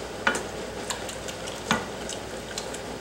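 A spoon stirs strawberry jam with powdered pectin in a pot, giving soft scraping swishes with a few sharp clinks against the side, close and fairly quiet.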